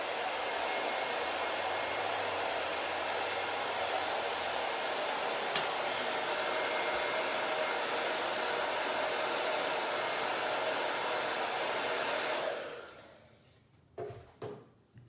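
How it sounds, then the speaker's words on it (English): A hair dryer blows steadily with a loud, even whoosh for about twelve seconds, drying paint on a craft sign, then switches off, followed by a few light clicks and handling sounds. "let me grab my dryer and let's dry that apple off"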